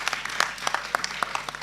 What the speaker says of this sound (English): I feel you all need to give Terry another big round of applause